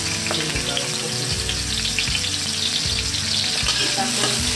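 Hot oil sizzling steadily in a pan while frying for Indonesian fried rice, a loud close crackle with repeated low scraping thuds of stirring at a regular pace.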